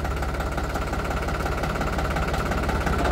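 New Holland 3600-2 tractor engine running steadily in third gear, a close, continuous mid-pitched diesel thrum with a faint knocking texture and no voices.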